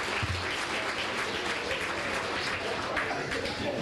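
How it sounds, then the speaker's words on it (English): Applause from the crowd at a high school fall sports banquet comes as a dense, sustained wash of clapping from many hands, steady from start to finish. "Go ahead and clap for me."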